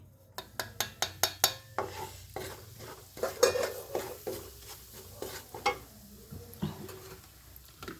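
A spoon stirs spices in a frying pan for a matar kaju mawa curry, giving a quick run of rhythmic metallic scrapes and clinks, then irregular stirring over a soft sizzle, close and clear.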